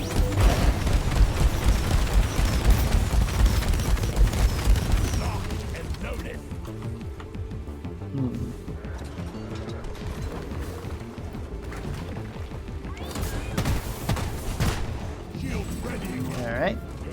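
Heavy revolver fire from the magic bullets overclock in a video game: a dense, loud burst of gunshots and booms crowds the opening seconds, then thins into scattered mechanical clicks and sporadic shots with a voice talking over them.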